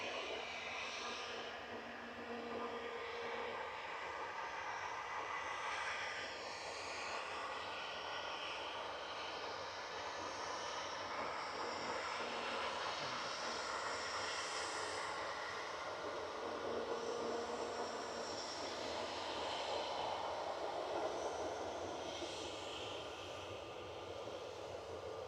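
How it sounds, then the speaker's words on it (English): SunExpress airliner engines roaring steadily at Manchester Airport, a continuous broadband jet rumble and whine that swells slightly and holds for the full stretch with no talk over it. "Looks like the Sun Express is going to be going first"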